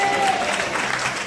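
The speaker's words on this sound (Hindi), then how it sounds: "ताली बजा के" A church congregation claps hands together, a close, busy burst of applause filling the whole moment, with a voice faintly present beneath it.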